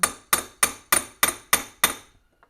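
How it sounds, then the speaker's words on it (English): Seven sharp, ringing metallic strikes of a hammer on a center punch, evenly spaced and close, peening the spring barrel button of an Amberola V phonograph, then silence. "So what I'm using is a center punch. I'm just going to get it a couple of times in here."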